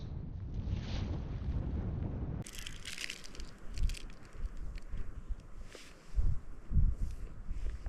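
Wind gusting over a Scottish mountain, heavy rumbling buffets against the microphone, easing briefly then returning in surges with a hissy roar.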